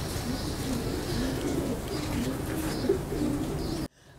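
Breeder pigeons cooing steadily in soft, repeated low calls, close and fairly even, with a faint hum behind them until the sound cuts off abruptly near the end.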